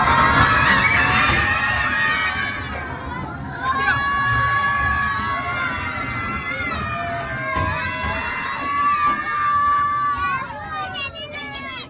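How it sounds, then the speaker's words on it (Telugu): Children shouting and cheering together aboard a toy train passing through a short tunnel at a zoo park, a continuous loud chorus of high excited voices that echoes close around the listener. "సో పిల్లలు ఎలా అరుస్తున్నారో వినండి ఒకసారి"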